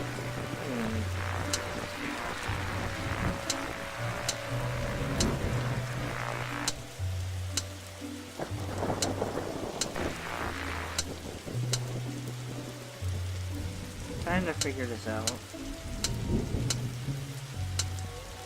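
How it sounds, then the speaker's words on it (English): A storm in The Darkside Detective video game pours steady rain under low thunder rumbles, with game music and a few sharp effect sounds, while a person talks briefly over it. "the storm is dying down"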